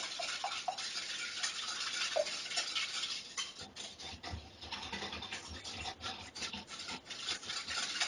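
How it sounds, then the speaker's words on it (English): Cupcake batter for cinnamon cupcakes being whisked in a bowl, a soft continuous scraping and rubbing with faint clicks, quiet and close. "give that a last whisk"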